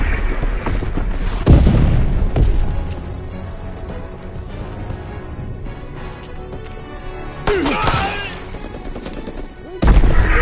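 Mortar strikes in Call of Duty WW2 land as several heavy, loud booms spread over about ten seconds, each with a crashing burst and a rumbling tail, over steady battlefield noise.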